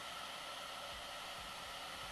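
A hair dryer blows steadily at full power, a loud continuous whooshing rush with low rumbling bumps underneath.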